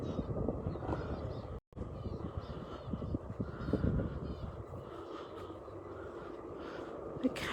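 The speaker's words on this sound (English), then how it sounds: "And all these little birds." Small birds call and chatter in a sunflower field, with scattered high chirps and caws over a steady rumble of outdoor background noise.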